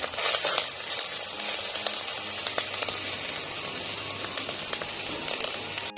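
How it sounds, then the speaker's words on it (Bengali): Ginger garlic paste sizzles and crackles steadily in hot oil, a close, continuous fry with a dense bright hiss and small pops throughout, no voices. "আদা রসুনটা ভালো করে ভেজে নিব"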